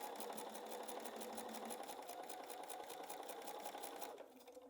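A sewing machine stitches quilting fabric in a steady, fast rapid-fire hum of needle strokes, fairly faint and alone, slowing and stopping near the end.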